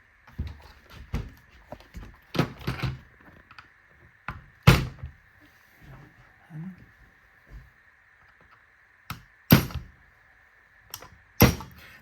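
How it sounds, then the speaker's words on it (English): Sharp metallic clicks and knocks from working the takedown pins out of a gas blowback M4 DMR rifle, a scattered series of close, crisp taps and thunks with quiet gaps between them. "Next thing we're going to do is remove these two pins."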